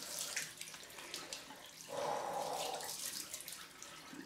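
Cold water runs from a tap into a sink during a head shave, a soft, fairly faint splashing rush that swells for about a second in the middle, with quiet background noise around it.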